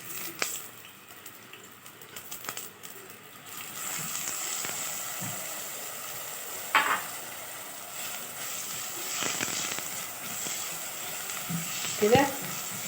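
Onions frying in a pan at home, a steady soft sizzle with occasional stirring clinks and scrapes, moderately close and continuous, with a faint voice in places.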